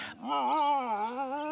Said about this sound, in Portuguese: os dingos raramente latem. Em vez disso, eles uivam e gemem.